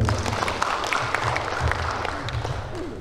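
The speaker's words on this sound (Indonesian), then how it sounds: "Tepuk tangan buat beliau." An indoor audience at the opening ceremony of a court clerks' technical training in Samarinda, East Kalimantan, claps steadily for a speaker, with dense, even applause filling the few seconds.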